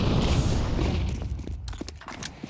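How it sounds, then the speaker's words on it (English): Grenades detonating in a Counter-Strike match, with a loud booming burst at the start that fades into scattered clatter and smaller pops over a couple of seconds, no talking. "The nades go off."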